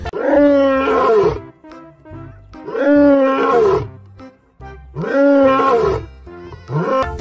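Lions in the video game Jurassic World Evolution 2 roar in a steady repeating rhythm, with four loud, deep groaning roars evenly spaced and close, and no voices over them.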